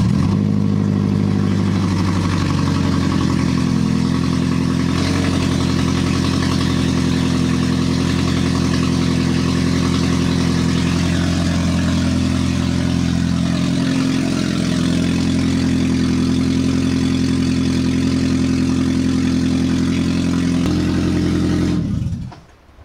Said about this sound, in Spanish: Ahorita se activa el carro.